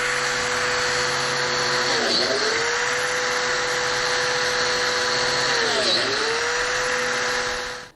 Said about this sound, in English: when you go to cut the biscuit slots in your 1/2-inch birch plywood